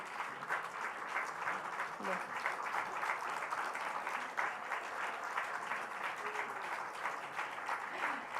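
A church congregation applauds warmly to welcome new members, sustained dense clapping from a large crowd filling the room at an even level from start to finish.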